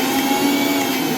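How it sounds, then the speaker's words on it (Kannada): A mixer grinder coarsely grinding soaked chana dal for vada, a loud, steady motor whine that runs unbroken through the brief moment, close up and with no talking. "ಇವಾಗ ನೋಡಿ ನಾನು ಮಿಕ್ಸಿ ಮಾಡ್ತಾ ಇದ್ದೀನಲ್ಲ"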